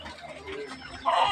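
Chickens cluck close by in a brief burst of short clucks, growing louder toward the end.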